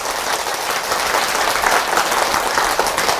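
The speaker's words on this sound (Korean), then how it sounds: "여러분들의 박수 소리를 들어보니까 박수 소리만 들어도 술술 풀릴 것 같아요" An audience at a Buddhist monk's lecture breaks into sustained, even applause, many hands clapping together in a dense, steady wash with no one speaking.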